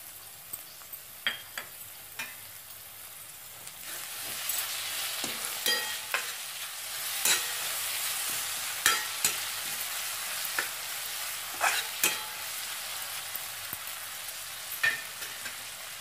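Golden brown onion and a large tomato fry for egg bhurji, a soft continuous sizzle punctuated by regular knocks and scrapes of a spatula against the pan, with no talking.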